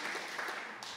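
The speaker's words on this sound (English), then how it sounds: "I would love to give you a very, very warm applause" Warm audience applause at a food film festival talk, a soft, even patter of many hands clapping at a distance, steady throughout.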